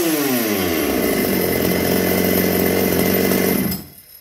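A ported Shindaiwa 757 chainsaw with a 178-degree intake duration runs at a steady, loud, buzzing pitch for several seconds, then abruptly cuts off into near silence.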